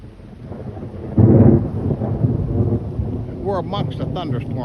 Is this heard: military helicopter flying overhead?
no